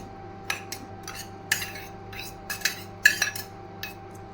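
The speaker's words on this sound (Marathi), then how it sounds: "हे बाउल मध्ये ना सर्व हे मिक्स करून घेऊया।" A spoon mixes chopped paneer-masala ingredients such as onion, ginger-garlic paste and spices in a bowl, making irregular light metallic clinks and taps against the bowl, close and fairly quiet, with no voices.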